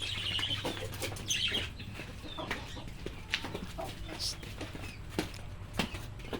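Backyard chickens feeding after scattered feed, with clucks and scattered pecking sounds, occasional wing flaps and brief rooster-like calls over a low steady hum, a person talking quietly nearby.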